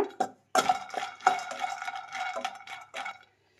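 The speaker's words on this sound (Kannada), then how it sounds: "ಇದು ಅಷ್ಟೇ ಮೀಡಿಯಂ ಫ್ಲೇಮಲ್ಲಿ ಇಟ್ಟು ಹುರಿಬೇಕಾಗತ್ತೆ ಕಡಲೆ ಬೀಜ." Peanuts dry-roasting in a pan over a medium flame for Sankranthi ellu bella, with scraping and clattering stirring strokes in a few close bursts and no voice.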